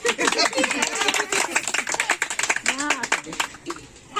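Guests at a wedding clap in quick, rhythmic bursts close by, the clapping running beneath lively talk and voices throughout.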